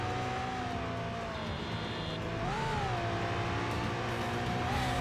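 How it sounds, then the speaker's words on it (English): Sports car engine in a video game chase sequence, a steady whining drone with pitch rising and dipping as it accelerates, loud and continuous throughout with no talking. "Chase the sports car."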